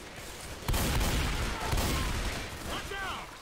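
Rapid gunfire from Left 4 Dead 2 rattles in dense overlapping bursts, loud and close, during co-op play with players talking over it.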